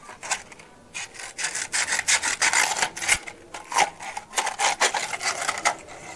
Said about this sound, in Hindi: मैं किस तरीके से मैग्नीशियम रिबन को रेगमाल से रगड़ रही हूँ